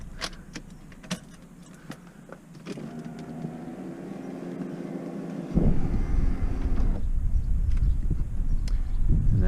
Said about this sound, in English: we might as well just put the hood up now and let's find out